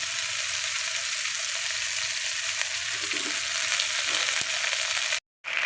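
Ginger paste frying in hot oil for a rohu fish curry, a steady loud sizzle with faint stirring, cut off abruptly near the end, no talk.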